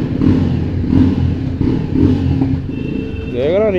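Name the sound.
motorcycle engine revving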